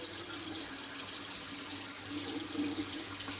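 Steady running tap water, a continuous even hiss of flow close by, with no voices.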